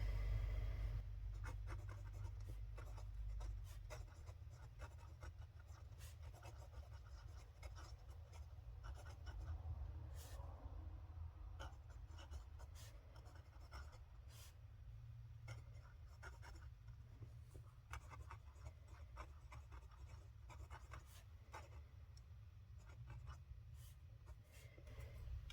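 Fountain pen nib scratching across Amazon Basics paper: a soft, continuous scritching of strokes and lifts, very close and quiet, over a low steady room hum.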